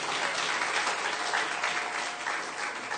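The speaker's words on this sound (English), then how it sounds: "Give yourselves a round of applause for that." A church congregation claps together on a Sunday, a dense steady burst of applause filling the room for a few seconds with no voices over it.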